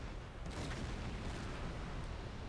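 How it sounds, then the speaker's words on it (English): Explosion of a ship hit in the wheelhouse by a submarine attack in Silent Hunter 5, a dense, sustained rumbling roar with a few sharper cracks, loud and continuous throughout. "I hit them right here in the wheelhouse, and it caused a Technicolor explosion."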